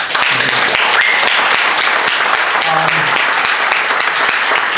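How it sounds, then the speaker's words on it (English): Dense, loud applause from a large audience at a public housing element meeting, steady clapping filling the whole stretch with a few faint voices mixed in. "it would be a good idea if you didn't take the time to applaud it"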